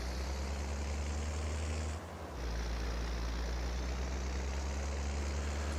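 A tractor in Farming Simulator 22 pulling two lowered seeders sowing soybeans, its engine giving a steady low heavy drone with a brief dip around the two-second mark, with no talk over it.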